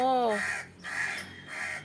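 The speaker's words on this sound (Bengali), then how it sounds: "দেখুন ওপরে কাক" A crow caws loudly overhead nearby, three harsh calls in a row, with a voice talking briefly at the start.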